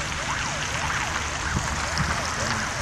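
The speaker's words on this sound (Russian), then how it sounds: "Скорая. Там скорая" A wailing ambulance siren rises and falls repeatedly over steady city traffic and rain noise in Tver, Russia, with a voice briefly heard.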